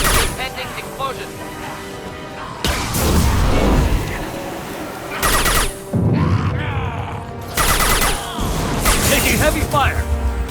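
Heavy gunfire and explosive blasts in the video game Mass Effect 2, loud bursts of weapon fire and impacts arriving in several intense waves separated by brief lulls, with voices shouting over the combat.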